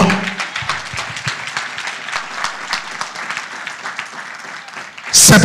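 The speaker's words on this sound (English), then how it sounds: "Clap your hands, blessed one" A conference hall audience claps hands in a dense, steady patter that runs for several seconds beneath a low murmur of voices, then a loud burst swells at the very end.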